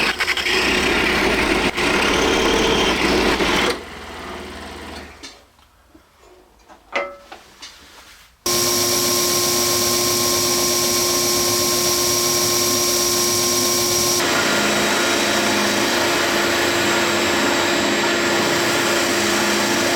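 A scroll saw buzzes steadily as it cuts wood, the rasping tone stopping and starting briefly, then a long even motor hum takes over.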